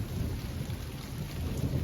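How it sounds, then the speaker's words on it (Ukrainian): Steady rain with a low rumble of thunder outdoors in a village setting, a dense, even wash of sound that stays constant and fairly loud throughout, with no voices. "Ось і дощик іде."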